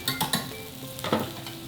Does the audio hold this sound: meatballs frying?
yes